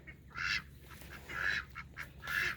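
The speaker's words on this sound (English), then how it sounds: "We're given some new ducks." Three loud bursts of duck quacking, each a short raspy run of calls, close by with brief quieter gaps between.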